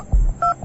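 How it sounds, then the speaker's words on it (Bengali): Two short telephone keypad tones sound from a phone at a market phone shop, clear and close against a faint low background rumble. "পরের দিন সকালে বাজারের একটা ফোনের দোকান থেকে ফোন করলো সে"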